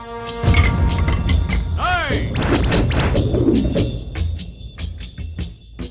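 A ground-floor blast in a Telugu film scene: a heavy thud opens, then crashing debris and whooshing effects roll on under a music score for several seconds, fading gradually.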